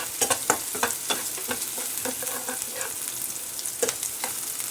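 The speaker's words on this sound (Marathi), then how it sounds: "तेल तापले जिरे घालायचे आहेत छोटा चमचा मोहरी घालायचे कांदा घालायचा मिरच्या घालायच्या" Cumin, mustard seeds, onion and green chilies sizzle in hot oil for a potato bhaji. There is a bright, continuous crackle, and sharp pops and spits come through most often near the beginning.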